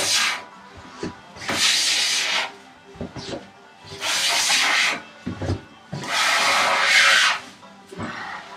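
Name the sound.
hand plane shaving wood on workbench top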